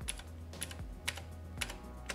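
Keys on a Womier K87 RGB mechanical keyboard clack in a few quick bursts of typing, close and fairly quiet, with short pauses between the clusters of presses and no talking.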